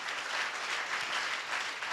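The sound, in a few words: audience applause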